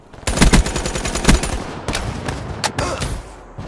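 Rapid bursts of video game gunfire, fired while the player's character is airborne, crackling loud and close in quick repeated volleys with brief pauses between them.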